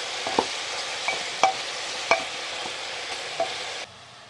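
Ginger garlic paste fries with mutton over a high flame, giving a steady close sizzle broken by a few scraping stirs, then the sizzle drops away abruptly near the end; no voices.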